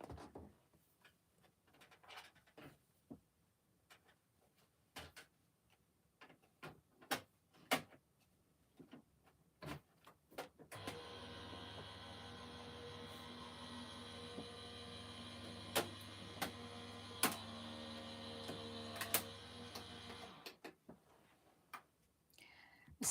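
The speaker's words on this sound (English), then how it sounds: "Then I'll just pop this through my die cutting machine." An electric die cutting machine runs with a steady motorized hum for about ten seconds while a Christmas card piece feeds through it, framed by scattered clicks and handling taps before and after.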